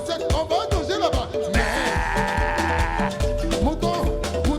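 A concert crowd at a show imitates sheep, with loud overlapping bleating voices over amplified music and bass, dense and continuous throughout.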